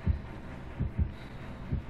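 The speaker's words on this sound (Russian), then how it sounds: "Сердце бьется, я вижу" A heartbeat terror radius pulses in Dead by Daylight, with low, muffled thumps repeating in quick pairs over a faint hum, moderately loud and with no talk.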